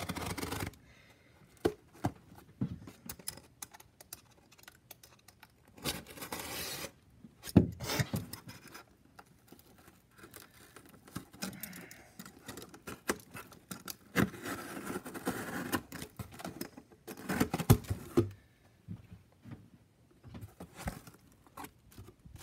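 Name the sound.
cutting open a cardboard shipping box with a knife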